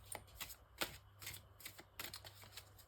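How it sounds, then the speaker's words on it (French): Albano White Tarot cards being shuffled by hand, heard as quick, soft papery riffles and shuffles repeating in short bursts over a low steady hum. "nous prenons l'Albano White Tarot pour le tirage de janvier 2025"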